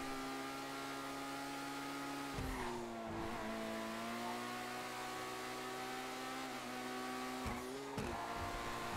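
Tires squeal on asphalt in GTA 5, a steady engine drone with sustained tonal screeches that bend in pitch through several corners, loud and continuous with no voices.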